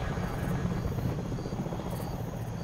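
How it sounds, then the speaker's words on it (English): Helicopter in the video game Battlefield Hardline, a steady, close rotor drone with a low throbbing thump that holds at an even level throughout, with no talk over it. "We're gonna jump in the helicopter and then bail out."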